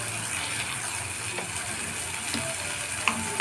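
Chopped chili frying with spices and tomato in a pan for a potato dish, a low continuous sizzle close by with a few light scrapes and clicks of a utensil, no voices.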